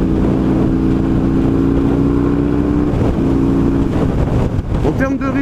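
A Husqvarna 900 Nuda motorcycle accelerates with a loud, steady engine drone that rises in pitch, buffeted by heavy wind rumble and with a brief voice near the end.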